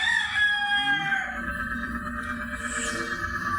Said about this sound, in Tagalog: Yung mga manok hindi sa atin yan, sa kapitbayan